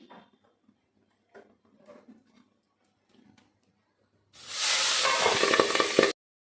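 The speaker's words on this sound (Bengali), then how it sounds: "আমার মাছ ভাজাটা হয়ে গেছে দেখুন" Pabda fish frying in hot oil in a pan: after a stretch of faint, scattered kitchen sounds, a loud, dense sizzle bursts in abruptly, roars for about two seconds and then cuts off.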